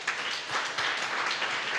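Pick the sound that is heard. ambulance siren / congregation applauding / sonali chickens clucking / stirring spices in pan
congregation applauding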